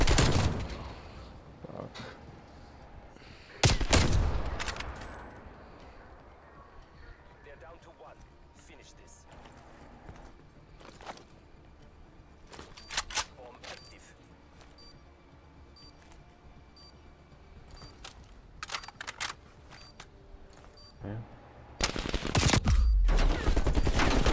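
Bursts of AK rifle fire in a first-person shooter video game crack out in loud volleys near the start, around the middle and at the end, with quieter scattered shots and in-game noise between them while players talk over it.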